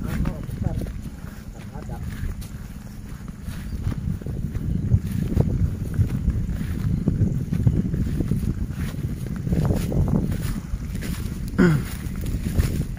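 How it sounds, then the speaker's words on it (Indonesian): Strong wind blows steadily outdoors near a hut, a continuous low rushing roar that buffets the microphone throughout and stays loud and unbroken from start to finish. "Anginnya besar banget ya Pak Ujang ya?"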